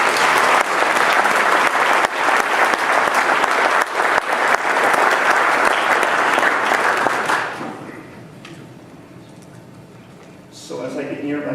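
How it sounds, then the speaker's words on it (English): A hall audience at a Beaumont, California State of the City event hosted by the Chamber of Commerce claps loudly and steadily, then the applause fades and a voice starts speaking near the end. "So if you would please join me in a round of applause for the"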